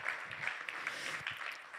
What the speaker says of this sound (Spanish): demos un aplauso enorme a este equipo